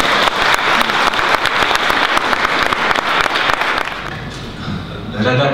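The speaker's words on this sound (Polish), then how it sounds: "Wielkie brawa." Conference audience applauding steadily for about four seconds at a national massage conference, dense clapping that thins out near the end as a voice begins to speak.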